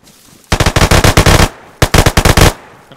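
Close, loud bursts of rapid automatic gunfire from the survival video game DayZ, two sustained volleys of about a dozen sharp shots each, separated by a short pause.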